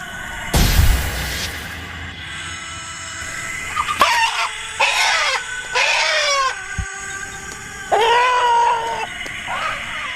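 A sharp burst opens the clip, then several separate clucking calls come in short bursts with gaps between them, fairly close.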